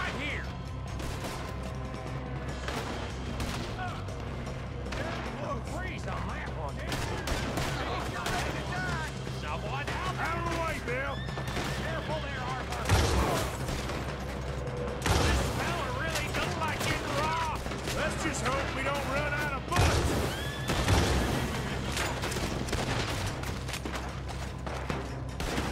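Gunfire in a Red Dead Redemption 2 shootout: dense, repeated shots and volleys crackle near and far throughout, with shouted voices over the barrage.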